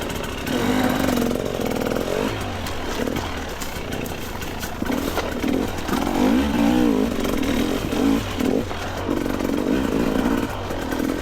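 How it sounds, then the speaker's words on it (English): A dirt bike engine on a trail ride snarls and revs continuously up close, its pitch rising and falling with throttle changes throughout, with no talk. "Swap into second gear to make the bike less snappy."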